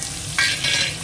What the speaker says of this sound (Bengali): পেঁয়াজটা একটু ভেজে নিয়ে আগে।